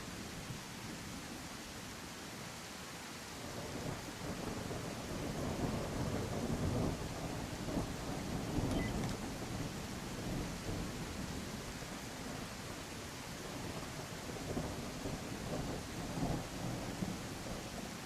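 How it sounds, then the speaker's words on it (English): A thunderstorm in the video game The Isle on its Gateway map: steady, hissing rain with low rolling thunder swelling through the middle, continuous and fairly loud for eighteen seconds with no talk. "Hope the storm clears up."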